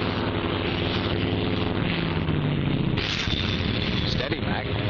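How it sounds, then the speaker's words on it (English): Grumman Hellcat fighter plane on approach to land on a WW2 aircraft carrier, its propeller engine a loud continuous roar with a brief droning tone, under a dense, noisy wartime mix with booming bursts. "McLean's Hellcat there will make it 43."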